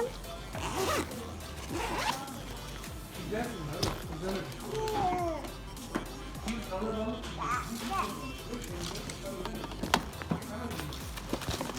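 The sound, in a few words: zipper of a child's school bag being opened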